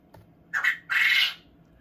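Turkey chick on day 19 of incubation calling from inside its egg during candling, two short squawking peeps close up, the second longer, with no talk.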